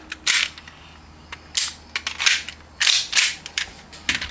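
An airsoft Hi-Capa pistol fitted with an FPR lightweight magazine fires several quick, sharp, snappy pops at irregular intervals, each one brief and crisp against a quiet background.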